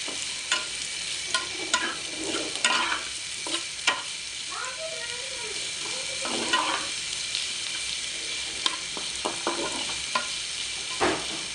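Onions fry in a pan until browned, a constant crackling sizzle with regular spatula stirs and scraping strokes, close and fairly loud.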